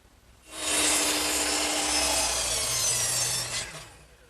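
A handsaw cuts through wooden molding held against a clamped guide strip, a steady close rasping stroke that runs for about three seconds before stopping, with no one speaking.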